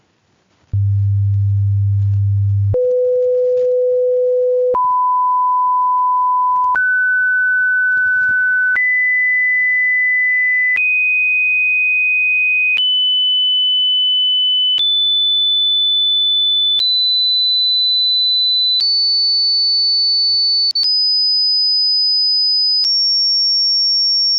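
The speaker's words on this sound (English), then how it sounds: "There's some different tones from 100 hertz up to about 10 kilohertz." Pure test tones step upward from 100 hertz to about 10 kilohertz, each steady note held for roughly two seconds before jumping higher, clean and loud with no voices.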